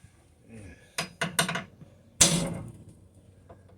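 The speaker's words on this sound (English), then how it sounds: "I might have to dimple this a little bit better with my punch and my hammer" A hammer strikes a metal punch to dimple sheet metal while removing a car radiator support, giving a few sharp metallic taps followed by one louder ringing blow, close and alone with no talk.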